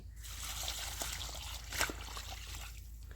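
Leftover lassi pours onto a plant in an orchard. A soft, close trickle of liquid runs for about three seconds and swells briefly in the middle, with no voices.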